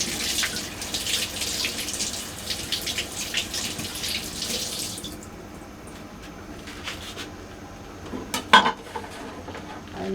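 Pots and dishes washed under a running kitchen tap while making beef soup, with clattering metal, knocks of cutlery and a steady rush of water, then a sharper clank near the end.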